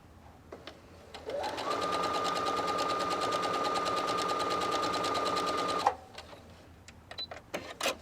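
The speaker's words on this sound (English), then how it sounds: "I'm ready to put my fabric in, lower my presser foot, and start sewing" A Brother PS500 sewing machine stitches fabric, running steadily for several seconds with a fast, even mechanical whir and rapid stitching rhythm, then stops; faint clicks and handling noise around it.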